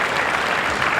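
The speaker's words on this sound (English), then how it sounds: "give him plenty of applause" A cricket crowd at Adelaide Oval applauds Saeed Anwar's shot in a loud, dense, continuous burst of clapping.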